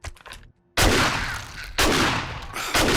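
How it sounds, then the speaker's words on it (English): Shotgun slugs fire in 7 Days To Die, three loud, heavy blasts in close succession, each with a booming, rumbling tail that tears through a house. "I'm destroying the entire house around it with the slugs"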